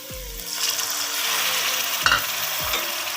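A frying pan sizzles steadily as a little water is added while cooking aloo anda curry, with a few soft clanks of a spoon against the pan.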